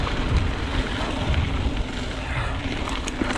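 Strong wind blowing into the face of a mountain biker on a trail, a steady broadband roar with buffeting gusts close to the microphone, continuous throughout and with no clear speech.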